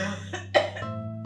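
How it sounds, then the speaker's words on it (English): A woman coughs a few times in quick, harsh bursts, close by, with a low steady hum underneath. "She's coughing very bad."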